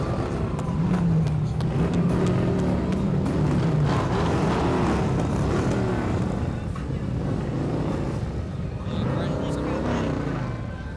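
Combat Veteran Motorcycle Association motorcycles roll past in a veterans parade, a steady rumble of several engines drifting by amid crowd noise and people talking.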